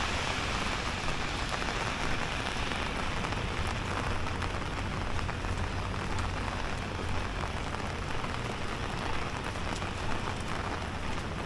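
Steady rain pours down on a New York City street during a severe weather warning, a dense continuous hiss of drops on pavement with no voices heard.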